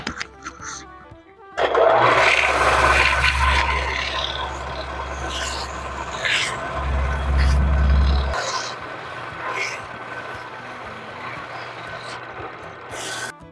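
Fine sandpaper rubs back and forth over a handmade wooden plate during final sanding, a rasping scrape in uneven strokes with a low mechanical hum underneath for part of the time.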